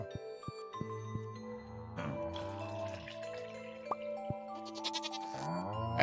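A goat bleats repeatedly in the Stardew Valley farming game, with wavering, nasal cries arriving in quick bursts over soft, tonal game sounds. No one speaks.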